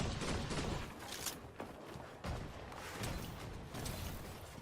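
Assault rifle fire in the video game Fortnite rattles out in dense, repeated bursts that fill the whole clip at a steady, close, loud level, with brief dips between volleys.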